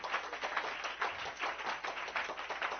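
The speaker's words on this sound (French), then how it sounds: "Donnez-lui une main d'acclamation" A church congregation claps hands in acclamation during a French-language service, fairly close, the clapping coming in rhythmic swells and bursts throughout without speech.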